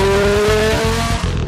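A 1979 Renault Formula 1 car pulls away in first gear, its engine a loud, close, steady rasping drone with a rising tone and no voices over it.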